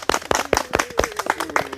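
Children clapping together outdoors at a forest nature session, a quick rhythmic run of about a dozen sharp, close claps with a voice faintly underneath.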